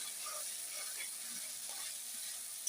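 Bombay duck fish frying with tomatoes and pepper paste, stirred in the pan, giving a steady continuous sizzle with faint scraping throughout, no talking.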